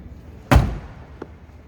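A 1964 Ford Falcon Futura car door swings shut with a single solid, close thud, followed by a faint click about a second later, then quiet.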